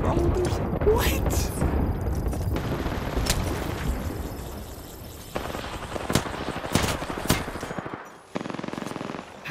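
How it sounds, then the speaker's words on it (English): Automatic gunfire in a video game rattles in dense bursts through most of the stretch, with a few sharper single shots near the end, while a voice talks over the shooting. "Why are you shooting at me, bro?"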